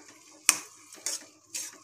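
A spoon stirs carrot halwa with sugar in a pan, three distinct scraping clinks spaced about half a second apart, close and clear over a quiet background.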